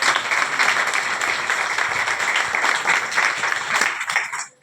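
Loud, sustained applause from an audience at a village Anganwadi nutrition programme, dense clapping from many people holding steady before tapering off abruptly near the end.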